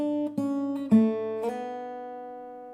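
An acoustic guitar slowly picks a few notes of the riff from a song, with slides between pitches and a final note ringing out, close and clear with no voices.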